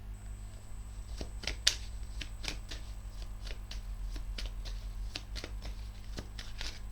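Tarot cards being shuffled by hand, a steady series of soft, crisp flicks and slaps repeating for several seconds over a constant low electrical hum.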